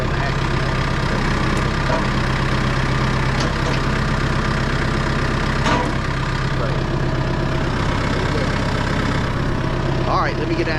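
A tractor engine idles steadily throughout at close range, a constant low rumble with small mechanical knocks and clatter during property clean-up work.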